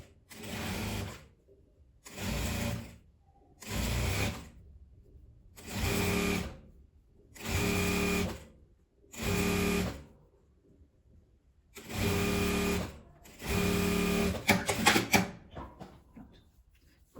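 A sewing machine topstitches around a fabric beret in repeated bursts of close mechanical whirring, each lasting about a second with short quiet pauses between them, eight runs in all, the last slightly longer.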